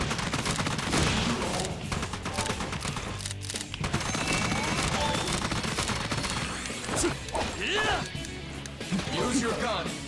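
Gunfire from a handgun in the video game Raidou Remastered crackles in scattered bursts amid a dense, busy mix of combat effects and music, with voices talking over much of it.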